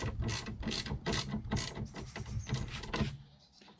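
A 13mm socket and ratchet clicks rhythmically in repeated strokes on a Yamaha Tenere 700, close up and loud, with no one talking.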